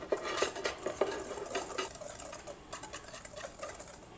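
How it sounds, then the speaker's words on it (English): Whisk clattering against a bowl while dry low-carb lemon poppyseed muffin ingredients are mixed, giving a quick, steady metallic scraping and tapping rhythm, close and moderately loud with no talk. "Now, whisk all this together."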